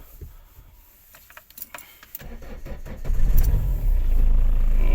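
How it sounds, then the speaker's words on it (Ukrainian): A 2000 Renault Kangoo 1.9 diesel engine starts after some clicks and rattles, then settles into a steady low idle that rumbles on close by. "двигун працює дуже гарно"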